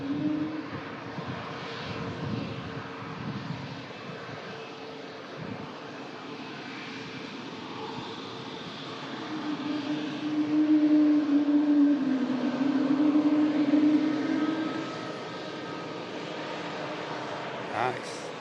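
An Airbus A220 jet arrived from Charles de Gaulle gives a steady engine rumble with a sustained tone that swells in the middle and fades, under a person talking.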